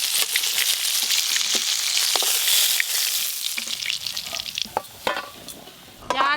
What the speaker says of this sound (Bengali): এই যে একদম লাল লাল করে কড়া করে মাছগুলো ভেজে নিয়েছি।